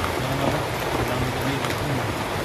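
Heavy rain pours down steadily and loudly, a dense continuous hiss of drops hitting surfaces with no pauses.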